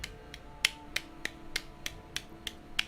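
Someone gives a slow golf clap, about nine soft, sharp claps spaced evenly apart and quiet against a faint hum of room noise.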